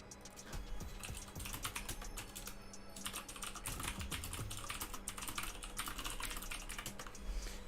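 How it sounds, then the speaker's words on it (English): Fingers tap quickly and continuously on a computer keyboard, a dense patter of soft clicks at close range with no voices. "I'm typing in the chat if you can hear me"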